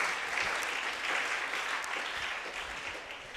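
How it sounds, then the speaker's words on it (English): Audience at a secondary school debate competition applauding, a continuous close wash of many hands clapping without voices. "Give yourselves a round of applause."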